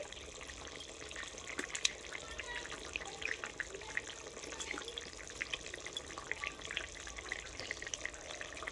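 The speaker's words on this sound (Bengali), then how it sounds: "এরপর কিন্তু মাছগুলো ঝোলের মধ্যে আমি ছেড়ে দিচ্ছি" Pieces of rohu fish are dropped into salted cauliflower broth bubbling in a pot, with continuous close bubbling and watery simmer plus a few small splashes and knocks.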